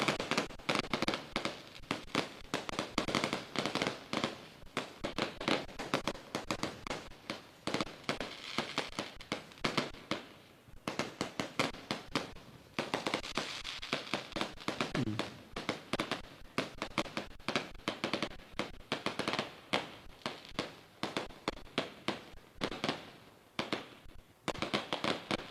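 Firecrackers and fireworks burst at a welcome celebration in Jhunjhunu, a long, dense barrage of sharp cracks and pops that crackles on and off with brief lulls, loud and continuous.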